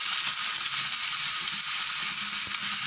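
Onion paste with ginger-garlic paste fries in a pan on the stove, a constant bright sizzling hiss, close and steady throughout, with no talking.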